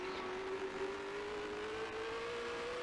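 Vintage 1965 Grand Prix racing car from Grand Prix Legends droning steadily as its engine begins to splutter short of fuel, a continuous mid-pitched hum with a slowly rising tone and no voices.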